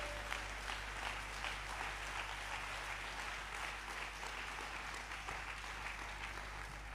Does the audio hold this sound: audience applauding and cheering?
yes